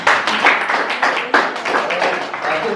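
Audience at a Hindi-Urdu poetry recital breaking into applause, a lively patter of many hands clapping at once, close and steady with a few louder peaks, briefly.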